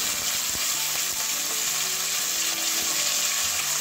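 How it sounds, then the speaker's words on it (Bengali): Cauliflower and potato pieces fry together in a pan for a moong dal dish, making a loud, continuous close sizzle with faint scraping as they are moved, and no talking. "ফুলকপি আলু একসঙ্গেই ভাজবো। আলুটাও দিয়ে দিচ্ছি, একসঙ্গে সব ভেজে নেবো।"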